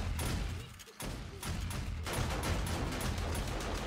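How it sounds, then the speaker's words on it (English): Automated turrets fire in dense, overlapping bursts during a horde night battle in a survival video game, a loud continuous fusillade with a brief lull near the start. "Oh, my turrets are doing a stupendous job."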